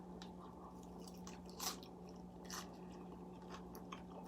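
Quiet close-up chewing of a bite of vegan BLT salad with bulgur wheat, brown rice, avocado, tomato and vegan bacon, steady soft mastication with a couple of slightly crunchier bites.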